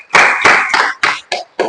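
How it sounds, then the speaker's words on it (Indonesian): A small group in a classroom lesson claps in a few short, sharp bursts. The claps are close and come in an uneven rhythm, then stop. "Tepuk tangan dulu."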